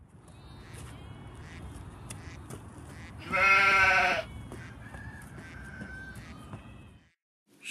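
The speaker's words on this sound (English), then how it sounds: "Sheep." A sheep lets out one loud, wavering bleat in the middle, with quieter farmyard noise before and after and a brief silence at the end.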